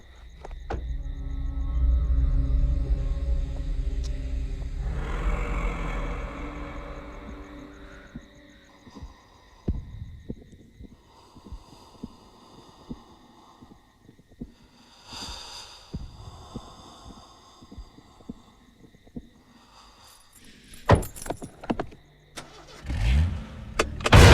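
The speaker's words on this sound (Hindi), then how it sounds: "मैं गाड़ी चला रहा हूँ, तू पीछे बैठ।" A car engine turns over and starts at the roadside, rumbling steadily and loudly at first before settling, followed by scattered knocks and clatter as the vehicle moves off, with no voices.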